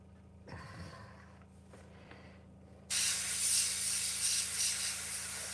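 A faint, quiet rustle comes first. Then an airbrush turns on with a sudden steady hiss of air blowing over paint on vintage lettering cutouts, and it keeps hissing to the end.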